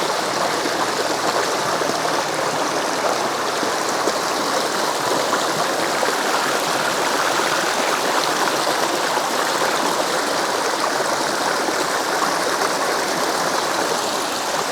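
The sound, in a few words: river stream flowing water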